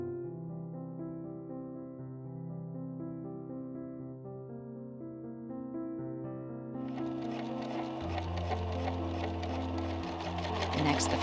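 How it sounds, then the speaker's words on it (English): Sewing machine stitching Duchess satin fashion fabric to its lining for a Victorian dolman cape, a steady droning hum under a music bed that grows denser and louder after the midpoint. "the fashion and the lining fabric are sewn together, right sides facing each other"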